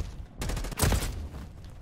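Gunfire in a multiplayer shooter video game, several rapid shots in a quick burst, loud and close, with a sharper crack near the middle before the sound trails off.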